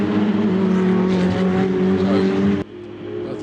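Ferrari Challenge race cars battling wheel to wheel at Monza, a loud sustained high-revving engine howl close by that cuts off abruptly as the cars pass, with a fainter engine note trailing after.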